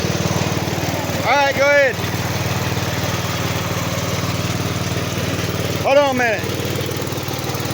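An old Allis Chalmers lawn tractor engine, run after years of sitting, idles with a steady, loud, close mechanical drone while someone speaks briefly over it twice.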